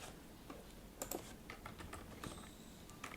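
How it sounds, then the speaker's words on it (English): Quiet, close keystrokes rattle on a computer keyboard in a soft irregular patter of clicks for a few seconds. "for breaking this loop, I just need to type skip."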